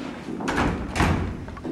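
A door slams on stage during a high school production of the farce Noises Off, a broad, booming thud in a theater hall followed by a second rattling bang shortly after.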